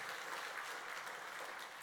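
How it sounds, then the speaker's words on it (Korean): A church congregation applauds together in steady, dense clapping that fills the space at moderate volume, with no talk over it. "우리 하나님께 감사의 박수하겠습니다"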